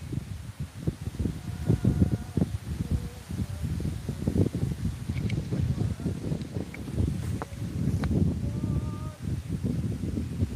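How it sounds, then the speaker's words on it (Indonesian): Strong wind blows in gusty, roaring surges against the microphone with rustling throughout, and faint voices and small clicks come through underneath. "Anginnya semakin kencang di seluruh Samboroso."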